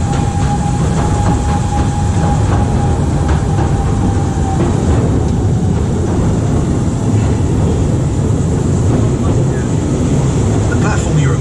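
The Post Office Mail Rail underground train runs along its track with a loud, steady, close rumble and a faint high whine, continuous and unbroken throughout.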